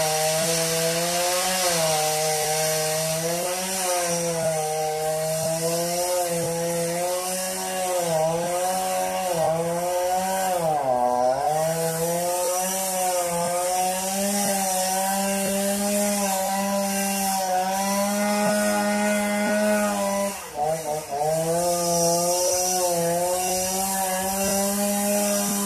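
A chainsaw operated about 15 metres up a big tree cuts through it with a loud, close, continuous buzz whose pitch dips and rises as the blade bites into the wood, with no voices.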